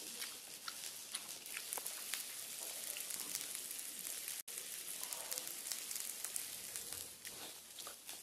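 Butter sizzling as food pan-fries on an outdoor griddle in Yufuin, Japan, a steady dense crackle and patter running throughout at moderate level, no voices.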